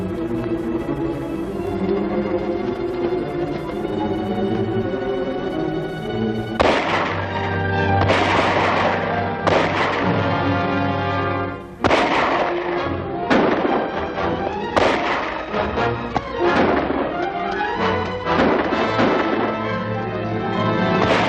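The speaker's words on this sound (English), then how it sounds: "Sounds like shots." Gunshots in a 1940s Canadian Mounted Police adventure serial, a rapid burst of repeated sharp cracks and booms heard after a stretch of music, loud and echoing with some overlap.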